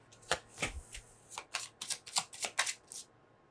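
Tarot cards are shuffled and pulled by hand: a quick run of about a dozen crisp riffling flicks and slaps, close and fairly quiet, with no talking.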